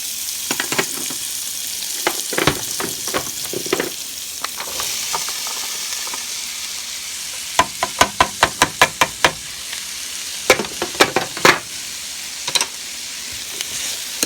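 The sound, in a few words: garlic sizzling and frying in hot pan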